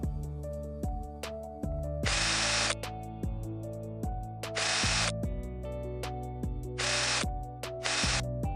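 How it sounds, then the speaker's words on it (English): A power drill whirs in short repeated bursts as screws are driven into an outdoor P3.9 LED module, with sharp clicks and brief hissy pulses between runs. "when you're screwing in, keep the drill perpendicular to the LED surface"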